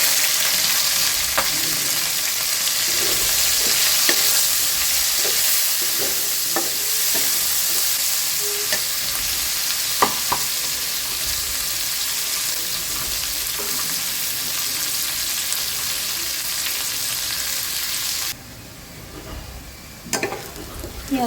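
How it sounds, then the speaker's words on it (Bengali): Onions frying in a pan with whole garam masala for a chicken bhaji, a steady loud broadband sizzle with scattered stirring scrapes and clicks that stops near the end. "পেঁয়াজটা ভালো করে ভাজা হয়ে গেছে লাল করে"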